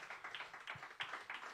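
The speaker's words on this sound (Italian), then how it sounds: "Ragazzi, facciamo un applauso veramente" Faint audience applause: soft, fairly rhythmic handclaps from a small gathering, heard on their own with no talking over them.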